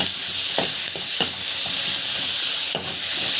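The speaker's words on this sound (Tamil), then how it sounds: "ஸோ உப்பு வந்து போடுங்க, போட்டு நல்லா வந்து வதக்கிடுங்க" Vegetables sizzling and frying in a pan with garlic, onion and chilli as salt is added and they are stirred, with a steady hiss and a few soft scraping stir strokes, close and alone.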